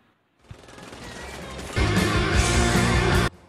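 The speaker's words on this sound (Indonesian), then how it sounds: "Mereka pun saling baku tembak dan William terus mengejar Hedge." Gunfire exchange from the action film Nobody (2021): a dense burst of shots and crashing impacts builds after a quiet start, becoming louder and fuller midway before cutting off abruptly.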